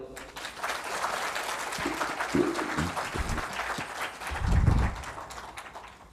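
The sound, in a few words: audience applause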